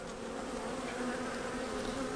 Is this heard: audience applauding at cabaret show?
no